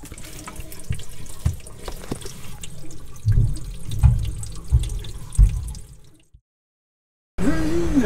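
Water runs from a hose into a sailboat's tank, a continuous splashing flow with a few louder gurgles, then a brief silence before the rushing water resumes.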